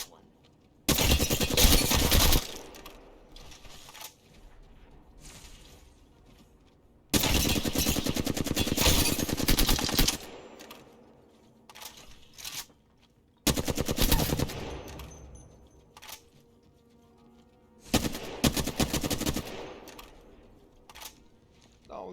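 Automatic weapon fire in Apex Legends during aim practice: four long sustained bursts of rapid shots, each about two to three seconds, separated by quieter gaps with faint background game sounds.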